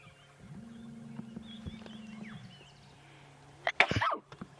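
A single sharp sneeze bursts out near the end, loud and sudden after a quiet stretch of low animal-like rumbling and faint outdoor ambience on a safari drive.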